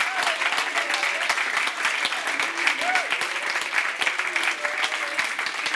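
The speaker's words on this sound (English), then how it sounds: "Now clap your hands and rejoice as a thank you to God." A church congregation claps hands together in sustained, dense applause, with faint voices and murmurs mixed underneath.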